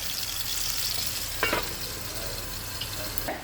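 Pearl spot fish fry in a covered pan with a steady, close, hissing sizzle throughout and a brief clatter of handling partway in.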